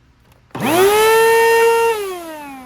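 A damaged Bissell CleanView vacuum cleaner, run for a while without its dustbin filter, spins up after a brief pause into a loud, steady high-pitched motor whine. Near the end its pitch drops as it begins to wind down.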